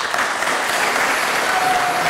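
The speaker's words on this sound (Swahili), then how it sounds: "Kimsingi tuwapigie makofi walimu wenu." An audience applauding teachers at a church ceremony for catechists, dense steady clapping throughout, loud and close with no pauses.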